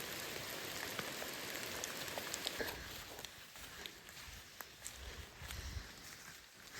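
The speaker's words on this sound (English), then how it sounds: "it is pouring" Heavy rain pours down on a forest trail along the Northville Placid Trail, a dense, even patter of drops hitting leaves and ground with a few nearby footsteps on wet soil and no talk.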